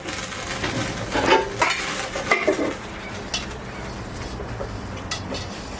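Rice being stirred with milk and salt in a pot, close wet sloshing and scraping of a utensil against the pot, a few louder clinks early on, then quieter stirring, no voices.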